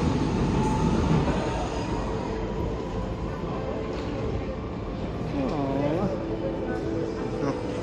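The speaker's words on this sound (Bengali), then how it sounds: "ট্রেন দাঁড়িয়ে আছে অলরেডি" A train rumbles at a station in Rome, Italy, a steady dense mechanical roar with a brief metallic wheel squeal midway and people talking nearby.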